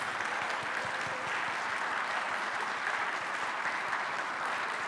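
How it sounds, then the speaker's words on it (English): Steady, dense applause from an audience at a 2022 Ohio US Senate Democratic primary debate, a continuous wash of clapping hands that holds at an even level for the whole stretch with no voices rising above it. "Give yourselves a round of applause."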